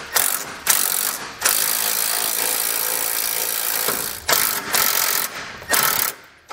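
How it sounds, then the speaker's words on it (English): Hand ratchet with a 9/16 socket snugging bracket bolts for air helper springs on a 2020 Toyota truck, rapid close clicking in bursts separated by short pauses. "Just going to use a 9/16 socket and wrench to get those all snug."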